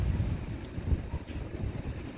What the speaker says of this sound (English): we have had high winds in East Tennessee all day.